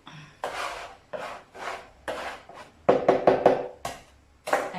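Homemade eggless pasta dough is scraped together on a wooden board in a series of short, rasping strokes, some in quick bursts, close and clear with no talking.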